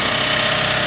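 A power tool runs continuously underneath an RV, a loud steady buzzing drone close by with no pauses or talking.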